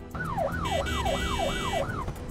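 A Detroit police car siren wails, rising and falling in repeated yelps, about five cycles in quick succession, loud and close over a steady engine rumble.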